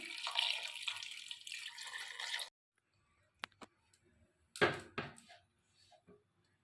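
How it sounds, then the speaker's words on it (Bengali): Water pours steadily into a cooking pot of jackfruit and potatoes for a couple of seconds, then stops, followed by a few sharp clinks and a louder clatter of pot handling, fairly close and with no talk. "আমি এবারে এঁচড়টাতে জল দেবো পরিমাণ মতন জল দিলাম"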